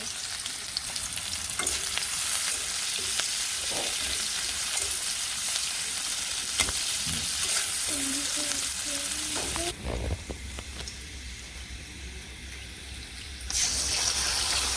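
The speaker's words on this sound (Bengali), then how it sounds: "এখন পেঁয়াজটা দিয়ে দিল পেঁয়াজ আর মরিচ খেতে ভালোই লাগে" Onion and chillies fry in a pan over a village cooking fire, a steady close sizzle broken by scattered stirring clatter, with a shift to a quieter hiss near the end.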